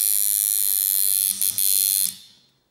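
A Sidewinder V6.1 rotary tattoo machine runs at around 5 volts with a loud, high, steady electric buzz, briefly stuttering before shutting off and winding down to silence.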